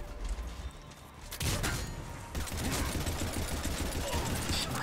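Gunfire in Mass Effect 3 Legendary Edition on Insanity difficulty, a sharp blast followed by sustained rapid shooting, loud and dense amid game combat noise.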